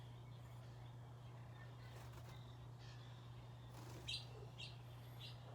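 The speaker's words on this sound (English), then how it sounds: "Oh, bird." A bird calls a few times in short, faint chirps over a steady low hum in a quiet indoor setting.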